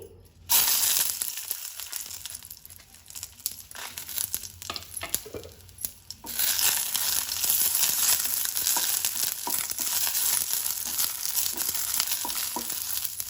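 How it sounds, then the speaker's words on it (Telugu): Dried red chilies frying in a little oil, a steady close crackling sizzle that runs throughout, thickening and growing louder in the second half, with no talking. "కొంచెం ఆయిల్ వేసుకొని ఎండి మిరపకాయలు వేయించుకున్నామండి"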